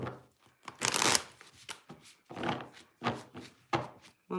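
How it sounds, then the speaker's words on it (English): A deck of tarot cards is shuffled by hand in a series of quick riffles and soft slaps, close up, with short pauses between bursts. "I just started to shuffle"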